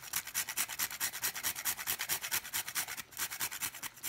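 Fresh whole nutmeg is rubbed against a grater in quick, steady back-and-forth strokes, a close, rhythmic rasping with a brief break near the end.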